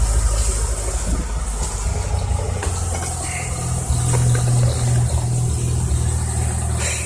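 A small four-cylinder car engine idles steadily after a cold start on a below-freezing morning, a loud, continuous low rumble with a slight rise in intensity midway and no talking.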